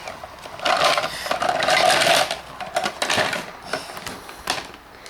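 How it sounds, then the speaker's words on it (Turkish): A child saws into a vacuum cleaner with a hand saw during a toy repair, giving bursts of rasping, scraping strokes that rise and fall in an irregular rhythm, close and fairly loud. "Testereyle kesiyor süpürgeyi."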